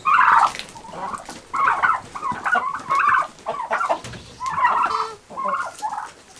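Turkeys and chickens cluck and gobble together in a coop, giving a string of close, loud, choppy calls with short gaps between them.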